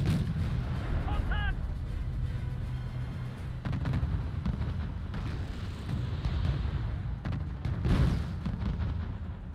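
Artillery fire in a Swedish war video game, Stridsgrupp Stockholm, with several heavy booms and bursts rolling over a constant rumble, under players talking.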